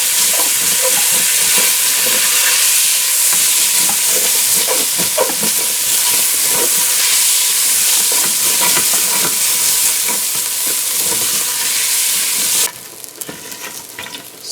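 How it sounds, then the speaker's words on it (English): Rice parching in ghee with a cinnamon stick for Guyanese sweet rice: a loud, steady sizzle with scraping stirs runs throughout, and it drops away abruptly near the end. "And now we're going to add our rice here. Of course you're parching the rice"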